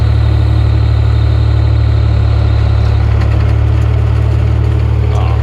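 A tractor engine runs at a constant loud, steady drone while driving the PTO of a Kuhn GA 6000 rotary rake under test, with a faint clatter from the machinery near the end.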